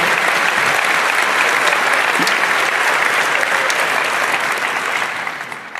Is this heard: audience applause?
yes